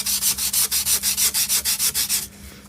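Wood rubbed by hand with a small piece of 600 grit sandpaper during a tower cladding build, about a dozen steady back-and-forth strokes in a quick even rhythm, close and clear with no talk.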